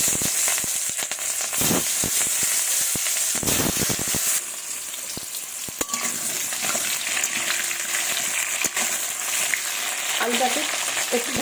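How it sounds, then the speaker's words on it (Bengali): Salted, turmeric-coated potatoes frying in mustard oil in a hot wok, a loud continuous sizzle with sharp crackles at first, settling into steady frying with occasional stirring knocks. "এবার আলুটাকে ভেজে নেব।"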